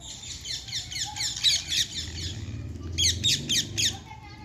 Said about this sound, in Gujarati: આપણા પોપટ બધા આવ્યા હે ચોખા ખાવા